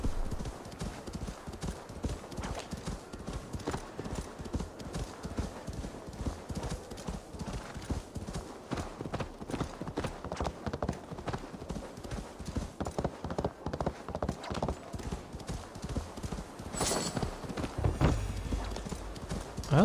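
A horse gallops in the video game Assassin's Creed Valhalla, its hooves pounding in a fast, steady rhythm for the whole stretch, with occasional whinnies and a player's voice talking over it.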